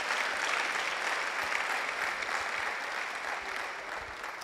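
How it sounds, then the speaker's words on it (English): Audience applause in a lecture hall after a talk on emerging infectious diseases in Africa, a dense, steady wash of many clapping hands that holds at even loudness throughout, with no voices over it. "Please, a round of applause for him once again."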